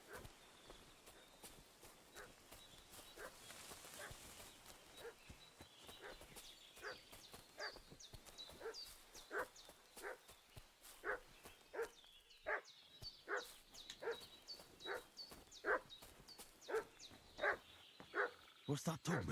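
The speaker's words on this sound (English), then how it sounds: "What's that dog making such a fuss about?" A dog barks in Kingdom Come: Deliverance II, with sharp, repeated barks scattered over quiet ambience and hoofbeat-like clip-clops, growing more frequent and closer toward the end.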